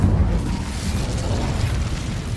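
A fire spell erupts in Hogwarts Legacy, a loud, steady roaring whoosh of flame with booming low rumble sustained for a couple of seconds, no voices.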